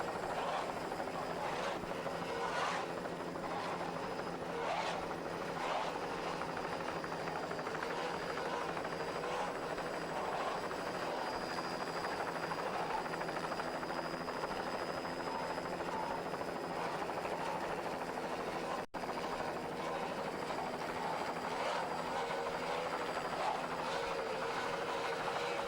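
Racing powerboat Motion Sickness, driven by Scott Adams, roars at full throttle off the Key West beaches, a loud, continuous engine drone sustained throughout with wind and water rush, briefly dipping once near the end.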